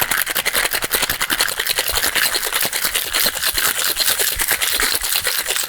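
Ice rattles hard inside a cocktail shaker while a Grogu cocktail is mixed, giving a fast, steady, loud clatter of rhythmic shakes that runs unbroken for several seconds with no talking.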